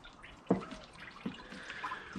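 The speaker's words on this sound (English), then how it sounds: "I will bring you back once the radiator finishes draining" Coolant drains from the radiator of a 1998 Jeep Cherokee XJ during a water pump replacement: a few sparse, quiet drips over a faint, soft trickle.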